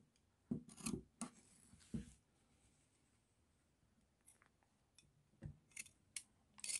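Scissors snipping through four stacked layers of fabric, a few quiet crisp cuts bunched at the start and again near the end with soft rustling between.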